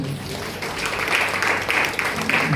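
Applause from a church audience during a Father's Day sermon, a continuous patter of clapping hands that fills the short stretch evenly, moderately loud, with no clear speech over it.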